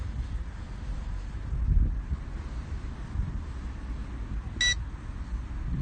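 Wind buffets the microphone outdoors during a JJRC X25 GPS drone flight, a constant low rumble with a brief electronic beep near the end.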